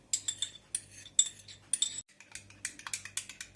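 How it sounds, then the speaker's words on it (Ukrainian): A spoon clinks rapidly against a bowl while egg yolk is stirred into sour cream, a run of bright metallic taps with one short pause midway, close and clear with no talking. "Розмішали жовток з нашою сметанкою"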